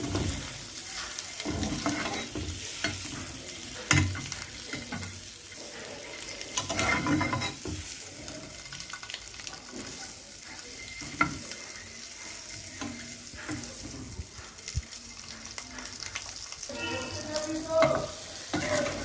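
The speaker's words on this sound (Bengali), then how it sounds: "ডিমটা আমি বেশি ফ্রাই করবো না, এটা আমি হালকা ফ্রাই করবো" Boiled eggs frying lightly in butter in a pan, a soft continuous sizzle with scattered scraping and clinking stirs, fairly quiet and without voices.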